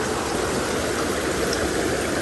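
A large, flood-swollen river rushes past in a steady, loud, continuous roar of turbulent water, close by and unbroken, with no voices.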